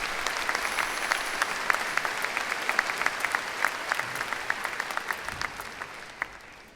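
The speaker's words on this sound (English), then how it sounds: "Let's give them a round of applause." A university spring commencement audience applauds the platform party in a large hall, with even, sustained clapping from many hands that gradually thins toward the end.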